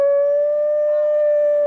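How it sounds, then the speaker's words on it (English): A puppy makes a weird, drawn-out howling noise, a loud, steady, close tone held without a break and with no talking over it. "Weird noise that pup just made."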